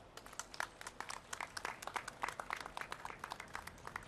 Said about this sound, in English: And so please give a round of applause to Claire Eberly.